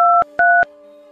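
Two short, clean telephone keypad tones beep in quick succession, followed by a faint steady hum.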